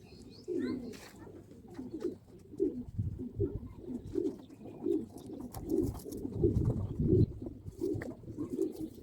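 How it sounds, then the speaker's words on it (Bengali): Pigeons coo repeatedly in soft, low, rhythmic phrases throughout, fairly close, with faint chirps and light pattering noise in the background of a loft during a rainy spell. "মোটামুটি কবুতরগুলো ভালো রেস্টে রাখা হলো"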